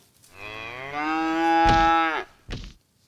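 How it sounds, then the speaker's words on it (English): A single cow gives one long, loud, drawn-out moo, sliding slightly in pitch, followed by a short snort or grunt, heard alone with no talking. "Now all the cows are gonna die."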